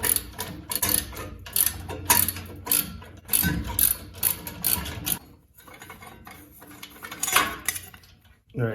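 Metal parts clink and ratchet as a valve seat, gasket and supplied hardware are fitted to a 1600 VW Bug turbo engine. Irregular close clatters and clicks fade toward quieter handling.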